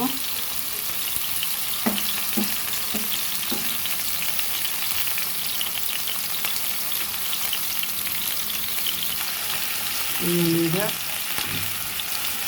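Chicken pieces fry in a pan for a chicken sandwich, a steady close sizzle running throughout with a few brief clinks and a short louder burst of crackling near the end, no talk.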